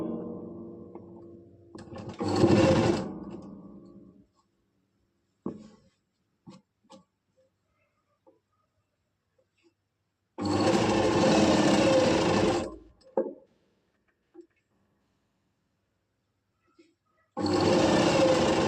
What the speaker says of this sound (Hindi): इस तरह से हम इसके ऊपर कंधे वाली साइड से सिलाई लगाना स्टार्ट करेंगे